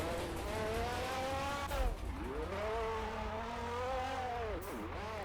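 A G80 car in a Roblox driving game drifts and spins out, its engine droning steadily with pitch swooping up and down as it slides, loud and continuous throughout.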